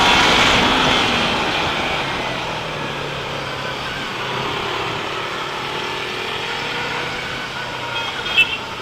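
A Yamaha R3 motorcycle engine holds a high, buzzing rev, steady and fairly loud, easing slightly after the start and sustained for several seconds without speech.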